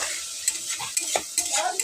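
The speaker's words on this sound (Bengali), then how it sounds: "আমি মশলাটাকে খুব ভালো করে কষিয়ে নেব।" Spice paste with turmeric and cumin powder being fried and stirred in a pan for a shorpunti fish dish, soft sizzling broken by several sharp scrapes of the spoon, close and fairly quiet.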